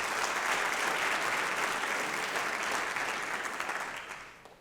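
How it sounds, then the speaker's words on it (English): Audience at a fall community college district convocation claps steadily, a dense, even wash of applause that holds for several seconds and then tapers off toward the end. "So let's give a round of applause to Governor Newsom and the legislature."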